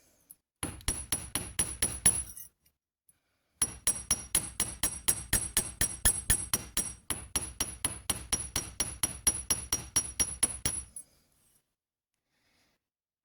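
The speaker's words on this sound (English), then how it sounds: "Back to my big hammer and carry on." Heavy hammer blows flatten the ends of twisted copper wire for a Celtic or Viking style brooch, a fast steady run of sharp metallic strikes in two bursts separated by a short pause, close and loud with no talking.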